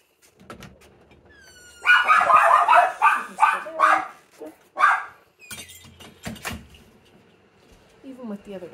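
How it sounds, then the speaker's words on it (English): Several dogs bark in a burst of rapid, loud barks near a house during a dog's door-manners and place-stay training session, then trail off into scattered yips and whines, with faint human voices around. "Even with the other dogs barking"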